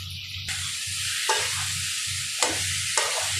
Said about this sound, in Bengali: এখন কষিয়ে নিব, ভালো করে কষিয়ে নেব।